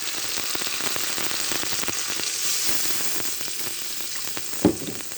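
Water goes into an oil-fried spice paste in a pan, and it sizzles in a steady hissing spatter with one sharper splash near the end. Cooking a prawn bora curry in milk, no one talks.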